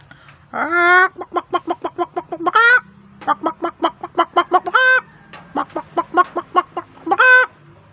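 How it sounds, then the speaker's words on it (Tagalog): A chicken clucking loudly and close, rapid rhythmic bursts of short clucks broken by longer drawn-out squawks, repeating in three runs. "Tingnan nyo yung manok guys."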